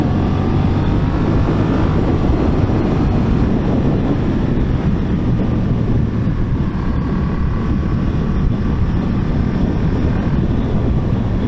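Honda CMX1100 Rebel motorcycle cruising at about 2000 RPM in standard mode, a steady loud low engine drone mixed with heavy wind rush, no talking.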